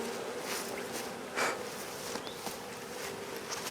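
Agitated honey bees at a hive, a dense continuous buzzing swarm heard up close, steady throughout with individual bees passing nearer now and then.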